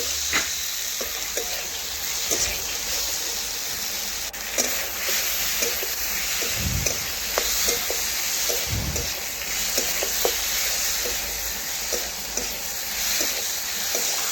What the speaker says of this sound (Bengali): এখন পেঁপের সাথে মশলা আবারও ভালো করে কষে নেব